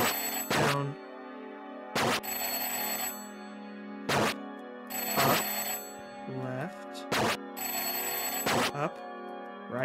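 A telephone rings insistently in a horror video game, repeated loud bell bursts with sharp percussive hits between them over a droning tonal background.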